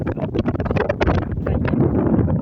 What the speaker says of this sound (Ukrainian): Можливо, мене не чути, бо вітер такий дурний.